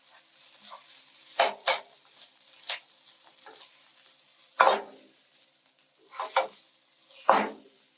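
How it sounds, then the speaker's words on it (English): Turmeric stir fry rice is spooned from a wok into a serving bowl, giving scattered scraping and clinking taps of a spoon against cookware, a few sharper knocks standing out over a quiet, faintly hissing background. "Put it in a serving bowl."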